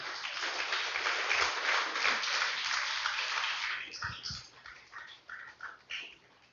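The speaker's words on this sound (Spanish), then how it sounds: "Déselo fuerte el aplauso" A church congregation claps loudly for about four seconds, then the clapping breaks into scattered individual claps and fades.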